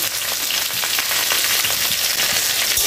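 Kochur loti (taro stolons) fry with salt and turmeric in a hot pan, giving a steady, close, crackling sizzle with a few stirring scrapes and no talking.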